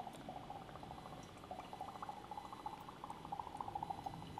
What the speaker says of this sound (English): I took some of the dry ice and I put it in this cup of water